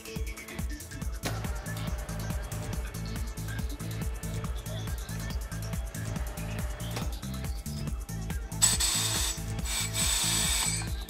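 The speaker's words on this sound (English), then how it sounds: "The bead roller is locked on the mounting arm and lowered onto the tire bead." Bead roller on a Twin Busch TW X-98 tyre changer locking onto its mounting arm and lowering onto a tyre bead: steady, rapid ratcheting mechanical clicks throughout, close and fairly loud, with a brief hissing burst near the end.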